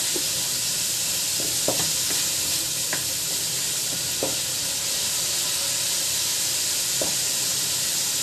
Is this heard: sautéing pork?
yes